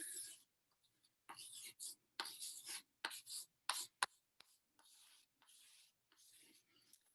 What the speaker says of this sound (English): I'm going to write this one up top big for us